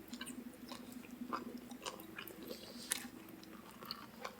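Quiet, close chewing of spicy food from the first meal cooked on a new outdoor fire pit, soft moist bites and faint crunches over a low outdoor background hum.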